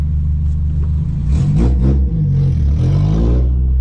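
A Renault Clio 1.6 16V engine idles at low revs, a steady close rumble with slight clattering and small fluctuations in pitch, heard alone without talk.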